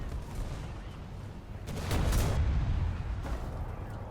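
A tank cannon firing in War Thunder, heard as one loud, broad boom partway through with a rumbling decay, set against continuous engine and battlefield noise.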